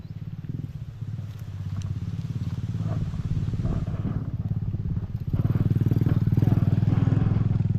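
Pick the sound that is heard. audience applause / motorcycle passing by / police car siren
motorcycle passing by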